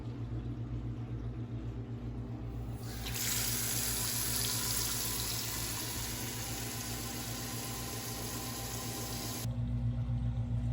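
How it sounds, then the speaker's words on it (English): Tap water pours into a pot of eggs on a kitchen sink, a steady close hiss of running water that grows fuller as the pot fills, then cuts back near the end, with no talking. "you're going to add your water, and what you want to do is fill it up so that all the eggs are covered by just about an inch of water"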